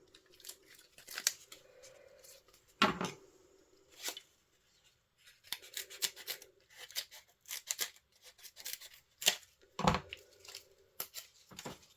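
Scissors snip through stamped craft cards in a run of short, crisp cuts with rustling paper between, close and fairly quiet, with occasional louder thumps as cards are handled.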